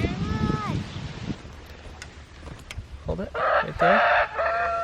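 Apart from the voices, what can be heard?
Barred Rock chicken clucking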